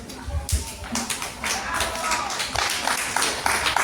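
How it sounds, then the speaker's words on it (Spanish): Children and adults in a school audience at a tribute event to writer Francisco Izquierdo Ríos clap for a young girl reader, giving loose, uneven claps and taps that are close and lively, with voices mixed in. "fuerte aplauso para la niña Campos Chávez Saray"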